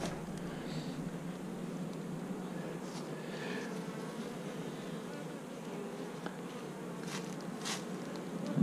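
Honey bees buzzing around hives full of natural comb, a faint, steady swarm drone with occasional individual bees passing close by.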